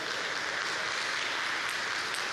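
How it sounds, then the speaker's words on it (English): Steady, polite applause from the crowd at a mixed doubles table tennis final, an even wash of clapping that holds at moderate level throughout with no voices on top. "Polite applause."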